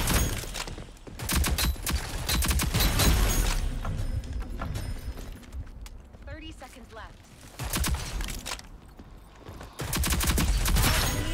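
Repeated shotgun blasts in the video game Rogue Company crack out in bursts over busy game sound and music, with someone talking between shots.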